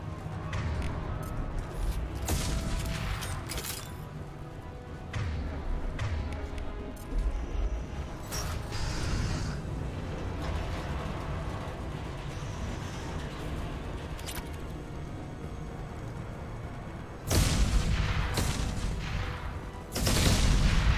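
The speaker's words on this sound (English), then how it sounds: "Firing concussive shot! This should punch through their armor." A concussive shot and steady gunfire during Mass Effect 2 combat, dense and continuous, with louder booming impacts near the end, partly mixed with in-game voices.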